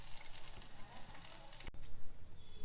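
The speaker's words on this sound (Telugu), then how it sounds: "ఇలా కొంచెం పచ్చిమిర్చి వేగనివ్వాలి." Green chillies frying in a pan, a soft, continuous sizzle and crackle at low level with one sharp click partway through.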